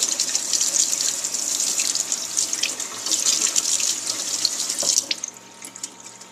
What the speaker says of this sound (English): give the grains a quick rinse